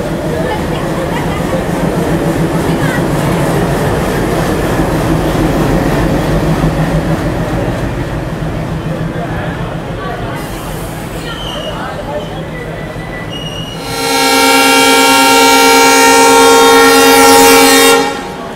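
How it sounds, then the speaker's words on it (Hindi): Trains pulling out of Bathinda Junction, with diesel engine rumble and a person talking, then a long, loud horn blast that lasts several seconds near the end. "यहाँ पे दो दो ट्रेनें भटिंडा जंक्शन से एक साथ खुल रही हैं, एक ये ट्रेन और एक इसके पीछे एक और ट्रेन"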